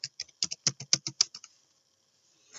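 A computer keyboard is typed on in a quick burst of about a dozen crisp, close keystrokes, then silence, then one last key press, with no one speaking.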